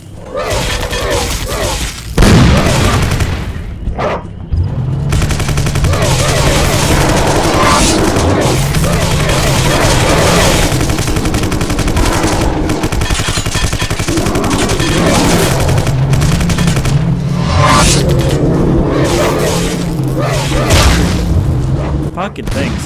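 Gunfire and explosions in the video game Vivisector: Beast Within, including an M60 machine gun and explosives, form a dense, loud, continuous barrage of booms and shots lasting throughout, with heavy low rumble.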